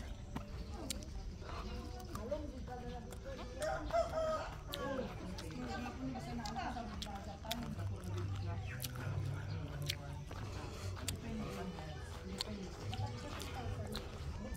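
Chickens cluck and a rooster crows in the background, steady farmyard noise running through the whole stretch, with people talking over it.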